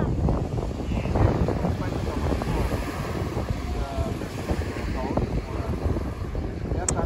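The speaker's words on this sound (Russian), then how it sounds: "Короче, сегодня ветер." Strong gusty wind at a beach in Limassol, Cyprus, buffeting the microphone outdoors, a steady loud roar with rumbling bursts throughout.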